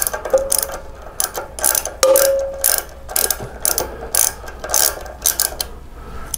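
A ratchet loosens bolts on the front fork of a Vulcan 1600 Classic motorcycle, heard up close as repeated bursts of rapid clicking with brief pauses and a few metallic clinks.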